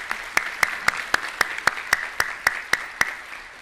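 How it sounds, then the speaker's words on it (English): Audience applause at a public school desegregation anniversary program, a dense crowd patter punctuated by one loud nearby clapper striking in a steady, even rhythm of sharp slaps. "give a round of applause for those folks for putting this program together"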